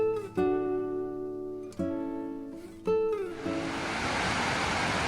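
Union Falls in Bechler Canyon, Yellowstone, rushes as a steady broadband roar that swells up in the final seconds, following a stretch of sustained ringing tones with sharp onsets.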